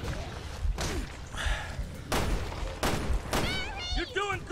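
Gunshots in Resident Evil Revelations 2 land as a few heavy, separated blasts amid thuds, with a voice talking over the action.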